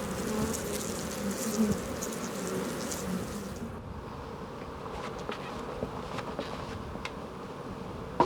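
Honeybees crowd a wooden hive frame, a continuous dense buzzing drone from many insects, fuller at first and then thinning, with a few sharper individual buzzes passing close.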